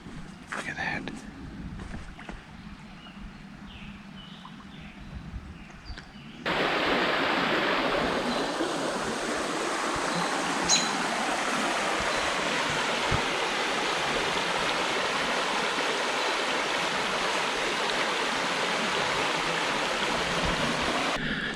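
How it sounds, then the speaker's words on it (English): A small river flowing beside a campground at Carley State Park near Plainview, Minnesota: a steady, broad rushing wash that swells louder partway through and continues unbroken, with wind and faint handling noise early on. "Got a nice river down here."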